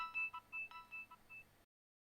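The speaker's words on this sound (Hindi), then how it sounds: "आपका फोन बज रहा है।" A telephone sounds a faint sequence of short electronic beeps in a quiet room, the tones spaced unevenly for a second and a half before stopping.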